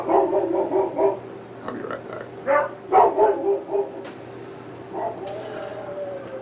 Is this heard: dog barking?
yes